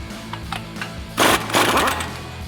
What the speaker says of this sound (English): we're going to take a 36mm socket and an impact and loosen this nut right here